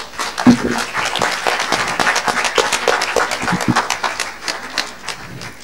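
Audience applause as a speaker is invited onto a stage, a sustained patter of many hands clapping at an even level with a few louder, closer claps standing out.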